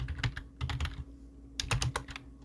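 Typing on a computer keyboard while entering notes in Notion, close and clear keystrokes in two quick clattering bursts separated by a short pause.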